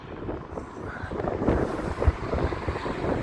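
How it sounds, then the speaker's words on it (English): Strong gusty wind in Blackpool buffets the microphone in uneven, roaring bursts that rise and fall over a few seconds, with no voices heard. "Oh, that wind is so... wow."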